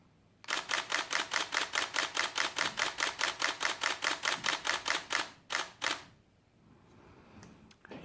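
A Nikon D7200 shutter fires in continuous high burst mode, a fast, even run of about two dozen crisp clicks lasting several seconds, then a few final shots and stillness.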